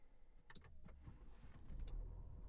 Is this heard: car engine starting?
yes